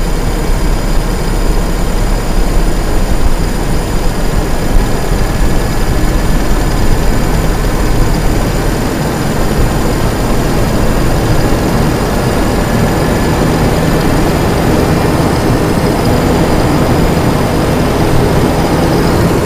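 A car engine, one suffering from a misfiring, hesitating fault, hums steadily at economical RPM. The loud, constant low drone is heard close up for the whole stretch and does not rise or fall.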